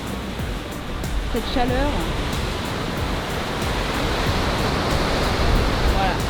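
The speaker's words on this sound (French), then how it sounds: "C'est juste magnifique, ce bruit de vagues" Ocean waves break on the shore of Réunion Island between Saint-Joseph and Saint-Philippe, a steady loud roaring surf wash, with someone speaking briefly over it.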